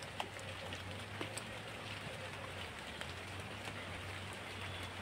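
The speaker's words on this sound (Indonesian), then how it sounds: "Hujan, teman-teman." Heavy rain pours steadily outdoors near a fruiting custard apple tree, a dense continuous hiss with a low hum beneath and occasional louder drops, no talk.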